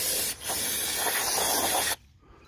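Aerosol brake cleaner sprays onto a 2015 Toyota Venza's brake rotors in a steady hiss for nearly two seconds, with a brief break near the start, then cuts off to quiet.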